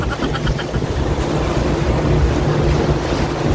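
Motorboat ride on clear sea water off Yanbu, Saudi Arabia, with a steady broadband rush of hull, spray and wind buffeting the microphone, continuous and close throughout.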